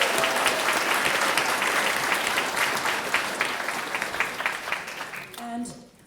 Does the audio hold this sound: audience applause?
yes